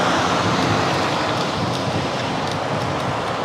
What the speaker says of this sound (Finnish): täältä tuulee tuolta alhaalta ylöspäin aika napakkaa